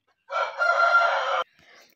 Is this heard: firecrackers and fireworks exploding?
no